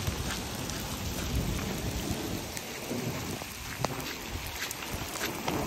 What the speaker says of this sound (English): Raining out here right now,